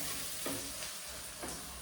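Shallots frying in oil for Jaffna-style village chicken curry, a soft continuous sizzle with a couple of faint stirring scrapes, close but quiet and brief.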